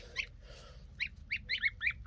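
Farm birds in a food-forest garden give short, repeated honking calls in a fairly close, uneven series, with a soft background hum and no talking.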